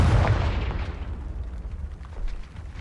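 A Confringo blasting spell in Hogwarts Legacy goes off as a single loud, deep explosion at the very start, then rumbles away over about three seconds.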